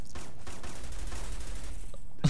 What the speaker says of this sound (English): Oh my god, machine gun!